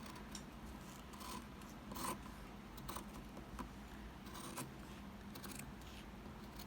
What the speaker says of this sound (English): Sharp scissors tend to cut material a little bit easier.